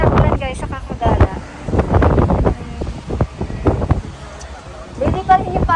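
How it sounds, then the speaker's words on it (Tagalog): Strong storm wind buffets the microphone outdoors in Tagaytay, Philippines, gusting loudly in uneven surges while people talk over it. "Lakas ng hangin."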